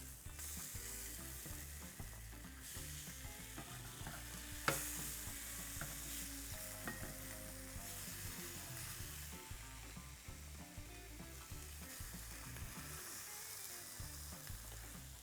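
A mortadella and American cheese sandwich frying in a pan gives a steady, dense sizzle throughout, close up, with a few faint clicks and scrapes and no voices.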